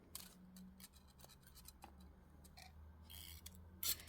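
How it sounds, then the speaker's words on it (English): Small cutters snip wire ends while a jewellery pendant is made, producing faint, close clicks and a few crisp snips scattered over a quiet background, ending with one brighter sharp cut. "So I need to cut all these ends off and we can curl these wires."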